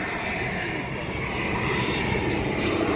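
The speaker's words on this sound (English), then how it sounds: "And here comes a plane." An EasyJet passenger jet passes overhead near Faro, Portugal, a loud, steady engine roar that stays strong and even throughout, with no talking.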